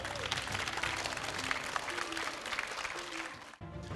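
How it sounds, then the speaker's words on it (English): A crowd at an esports tournament's 3v3 bracket final claps loudly and continuously, the applause fading briefly near the end before picking up again. "big round of applause once again"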